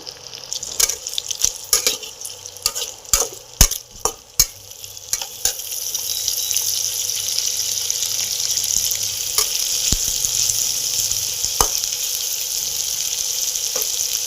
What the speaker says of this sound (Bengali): ওই তেলের মধ্যে আমি পেঁয়াজটা ফোড়ন দেবো। পেঁয়াজটাকে ভাজা ভাজা করে নেব।